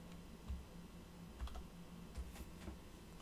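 A computer keyboard is pressed for a shortcut in music production software, giving a few soft, faint key clicks over a steady low hum in a quiet room.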